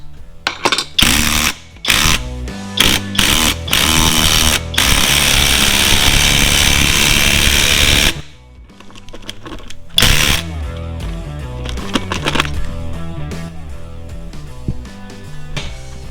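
A power tool drives a final bolt to mount a Torack lumber rack, whirring and rattling in short bursts and then one long continuous run, followed by quieter intermittent buzzing and clicks nearby.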